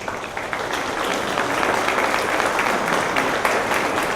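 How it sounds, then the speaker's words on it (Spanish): A loud, dense round of applause fills the room as the presiding panel at an official diploma inauguration ceremony poses for a photo, steady clapping throughout with no speech. "Brindémosles un fuerte aplauso."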